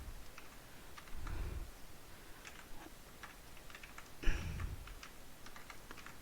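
Computer keyboard typing of CSS code, with quick irregular key clicks and a couple of heavier thumps, close and fairly quiet, with no talking.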